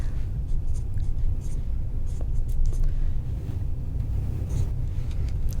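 Pen or pencil writing on a sheet of paper, steady scratchy strokes running continuously close to the microphone over a low rumbling background.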